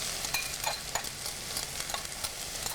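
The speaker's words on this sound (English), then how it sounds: "We'll go ahead and get that in there, sizzling up." Onion sizzles steadily in oil in a pan, with scraping stir strokes clicking at intervals, close and continuous with no talking.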